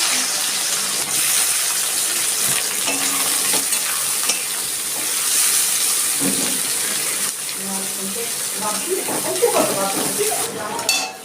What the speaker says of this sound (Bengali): ফোড়ঙে দিচ্ছি আমি একটা কাঁচা লঙ্কা দিচ্ছি পেঁয়াজ কুচি